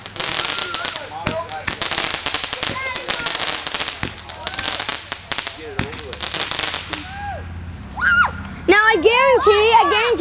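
Consumer fireworks and firecrackers crackle in rapid popping bursts, ending in whistling rising shells, while people talk and a crowd reacts nearby.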